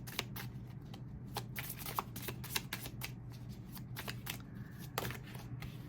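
Tarot cards are shuffled by hand in quick, irregular riffles and flicks, close and fairly quiet over a faint steady hum.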